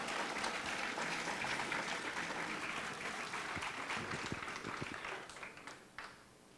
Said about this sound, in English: Let's give a warm round of applause to our governor candidates today.